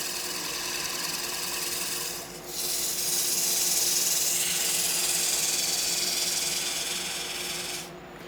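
Wood lathe spinning a turning while it is sanded, a steady motor hum under a continuous hissing rasp of abrasive against wood that swells and eases twice.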